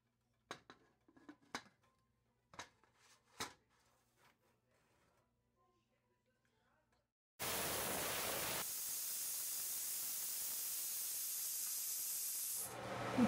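A pressure cooker of mutton lets out a loud, continuous hiss of steam for about five seconds, ending abruptly, after a few quiet clicks and knocks from the kitchen.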